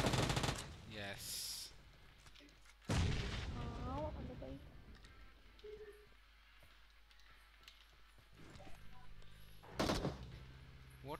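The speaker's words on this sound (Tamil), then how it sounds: "நான் பாம் போட போறேன்" Bomb blasts and gunfire in a shooting video game, several sharp bursts spread through the clip over a low rumbling game background, with talk faintly present.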